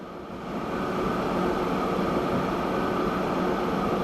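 A train in Transport Fever 2 rolls along as a steady, broad rushing rumble that swells in over the first half-second and then holds evenly, with no talking.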